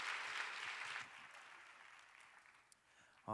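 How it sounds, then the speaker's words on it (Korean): Applause from a church college-group congregation, loud at first and then thinning out as the clapping fades. "우리 귀한 나눔 해주신 우리 아경 자매님과 혜민 자매 뜨겁게 박수하겠습니다."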